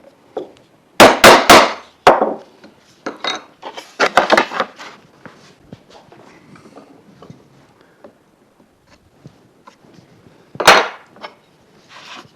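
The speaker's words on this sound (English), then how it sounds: "Then I sit the chisel tip in the knife mark so it cuts just on the line" A chisel set in a knife mark chops into wood while a half-blind dovetail joint is cut, sharp mallet strikes landing in quick clusters of two or three, close and loud, with quiet pauses between.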